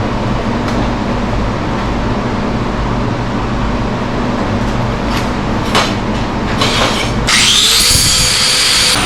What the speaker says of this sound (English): I can grind this back because it doesn't need to be all that. So do a quick grind back here.